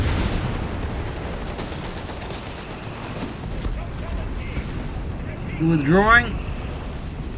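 Mortar rounds and gunfire sound in a Company of Heroes 3 battle: a constant rumbling war din with scattered booms, overlaid by a commentator's voice and a short unit voice callout near the end.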